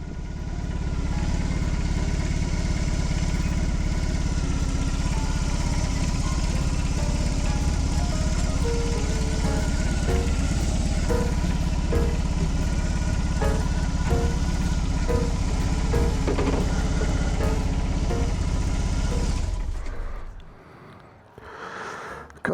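A motorbike engine idles steadily in a ferry queue, a loud, close, continuous throb with rhythmic pulsing, then cuts off near the end leaving near silence.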